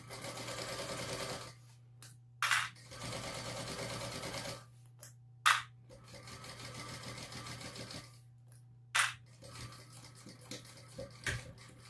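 A sewing machine stitches bag panel strips together in short, fairly quiet bursts of fast whirring, broken by pauses with sharp clicks and clunks from fabric handling, over a faint steady hum.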